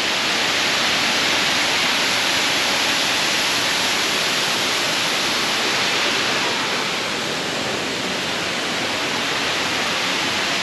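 Hinulugang Taktak waterfall pouring in a steady, dense roar of falling water, loud and continuous at close range, with no voices.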